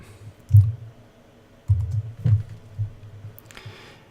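Typing on a computer keyboard, a few close, distinct bursts of key presses separated by short pauses.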